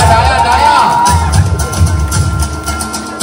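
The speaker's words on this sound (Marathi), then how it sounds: "आणि टाळ्या" A group of women at a baby shower celebration clap and cheer loudly and close, a dense crowd noise with voices mixed in.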